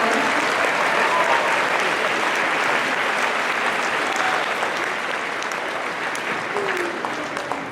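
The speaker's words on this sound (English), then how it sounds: "We would please give them a round of applause" An audience claps at a Ben Lomond High School graduation ceremony, with sustained dense applause filling a large hall that slowly tapers off near the end, and murmured voices underneath.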